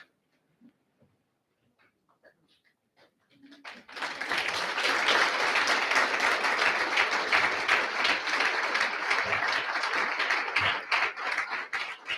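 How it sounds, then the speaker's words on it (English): Students, staff, friends and family stand at a recognition of achievement ceremony and break into loud, sustained applause that swells suddenly after a few quiet seconds and continues steadily as a dense wash of clapping. "I'd like to ask everyone, students and staff, friends and family, to stand and to applaud for Ulrich."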